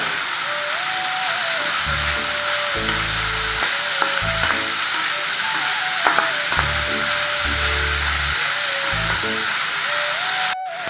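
Capsicum and shredded coconut sautéing in a pan for a capsicum chutney give a steady, close sizzle throughout, with occasional soft stirring scrapes and a faint high tone running across it.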